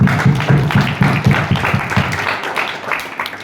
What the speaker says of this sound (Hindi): तो सबके लिए जोरदार तालियां हो जाए